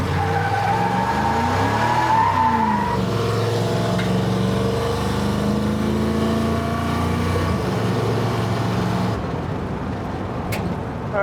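A car engine fitted with an oversized carburetor runs steadily with a loud, sustained tone that rises and falls in pitch, then drops back toward a lower idle near the end.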